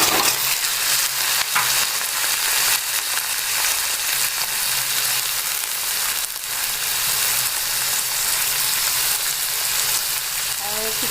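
Carrots and beans sizzle steadily with onions in a hot pan, a constant dense frying crackle that stays loud and close throughout, broken now and then by soft stirring scrapes, with no voices.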